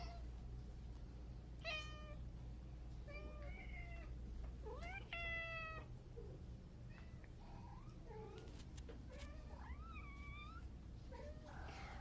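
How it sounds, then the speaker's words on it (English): Several cats meow repeatedly while waiting to be fed indoors, with rising harmonic calls scattered across the stretch over a steady low household hum, moderately near and fairly loud. "Cats won't stop marauding, so I'm gonna feed them."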